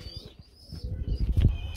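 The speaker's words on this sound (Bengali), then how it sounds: "মুম্বাই কবুতর এত সুন্দর মাশাআল্লাহ বন্ধুরা জুটিটা দেখতে পাচ্ছেন" Mumbai breed pigeons, a pair, give soft low coos and brief wing flaps that grow louder toward the end, close by and with no speech.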